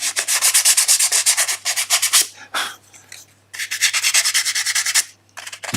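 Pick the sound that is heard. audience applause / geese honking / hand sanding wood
hand sanding wood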